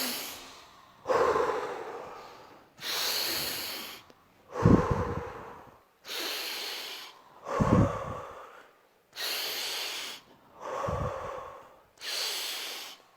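Deep breaths are drawn in through the nose and pushed out in an exercise against coronavirus, about eight slow, even cycles separated by brief pauses, close and audible with no talking.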